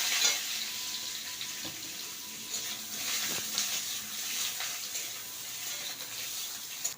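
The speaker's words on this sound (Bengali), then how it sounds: "এইবার ওই আলু এবং ফুলকপি ভেজে নেব।" Potato and cauliflower pieces frying in mustard oil in a pan, a continuous bright sizzle with intermittent soft stirring knocks, close up and without speech.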